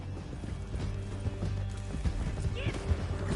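Hooves pound in a fast, rhythmic gallop in the Red Dead Redemption 2 video game, mixed with a brief neigh, while voices talk over the continuous clatter.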